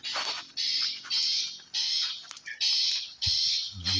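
A cucak koreng bird gives repeated loud, harsh whistled calls in regular bursts, close by, with brief gaps between each phrase.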